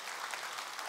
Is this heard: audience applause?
yes